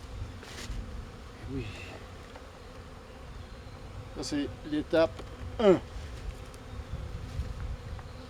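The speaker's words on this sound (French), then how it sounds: "Je dois secouer mes abeilles." Honeybees from a nucleus colony buzz steadily as they are shaken into their new hive, a dense insect hum running throughout with a few louder swells, while someone talks over it.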